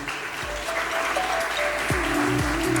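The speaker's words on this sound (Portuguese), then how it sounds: "Uma salva de palmas para o Vicente." Audience clapping for a presenter named Vicente at a retail and franchising business event, steady and sustained throughout, with a faint voice audible underneath.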